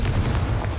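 A Confringo explosive spell cast in Hogwarts Legacy lands as a short, dense low boom with rumbling crackle, close and loud, fading slightly within a second.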